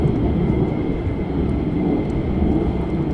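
A fighter jet of the 492nd at RAF Lakenheath gives off a broad, steady low roar that holds evenly throughout at moderate distance, with no talk over it.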